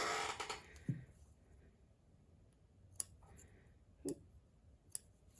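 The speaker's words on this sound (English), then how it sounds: "And I'm gonna go ahead and clip my threads" Scissors clipping threads snip a few times at irregular intervals, sharp quiet clicks close by with near silence between cuts.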